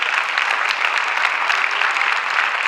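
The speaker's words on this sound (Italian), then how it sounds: "ma posso chiedere un altro applauso." A school audience applauds after a show, a continuous even patter of many hands clapping at moderate loudness, with no talk over it.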